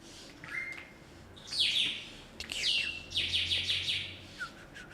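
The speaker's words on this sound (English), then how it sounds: "I'm so sorry for those birds being extremely loud." Several birds chirp and tweet in bright bursts, some loud and close, with short trills and pauses between calls.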